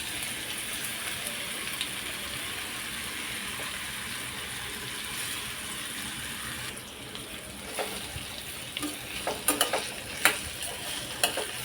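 Cut raw mango pieces with a pinch of asafoetida are stirred in a pan for a muramba, giving a steady soft sizzle and hiss, with sharper scraping clinks toward the end.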